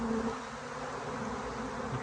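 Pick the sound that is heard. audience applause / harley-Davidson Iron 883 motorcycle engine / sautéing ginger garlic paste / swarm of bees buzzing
swarm of bees buzzing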